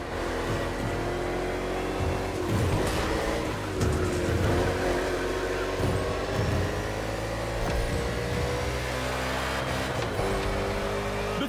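NASCAR race cars roar through an urban street circuit in Honolulu, Hawaii, in The Crew Motorfest video game, engines droning loud and continuous with shifting pitch and overlapping passes.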